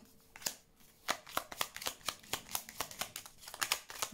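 Tarot cards riffled and laid down one after another in a quiet room, giving a string of close, crisp papery snaps and slaps at an uneven rhythm, with no voices.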